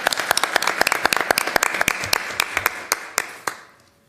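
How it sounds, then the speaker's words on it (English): An audience at a school district candidate forum applauds the candidates, with sparse, distinct handclaps over a steady murmur that thin out and fade to near silence by the end. "I'll give you a round of applause"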